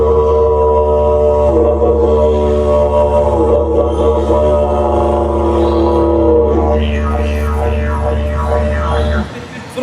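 A voice imitates a dingo's wolf-like howl: a loud, close, sustained droning tone holds for several seconds, then breaks into wavering rising and falling glides before cutting off.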